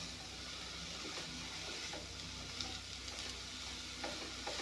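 A pan sizzles steadily on the stove as ingredients for a fish-head curry are fried and stirred, with soft scraping strokes breaking through the constant crackling hiss.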